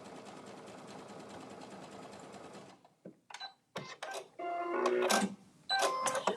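Sewing machine stitching a zigzag along a fabric edge, one side of the stitch off the fabric: a steady whirring run, then a pause and a series of short, stuttering bursts of stitching.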